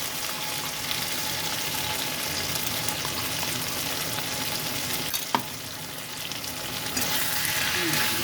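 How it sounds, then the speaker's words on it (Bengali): Ginger-garlic paste and onion paste sautéing in a pan for a prawn and jackfruit dish, a dense steady sizzle with stirring scrapes and one sharp utensil knock, close and continuous. "2 চামচ আদা রসুন বাটা দিয়ে ভালো করে কষে নিই।"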